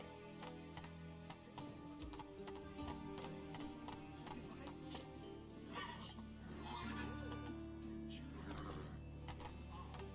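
Roach the horse galloping in The Witcher 3: Wild Hunt, a steady stream of hoof clip-clops running throughout, mixed with game music, ambient noise and voices.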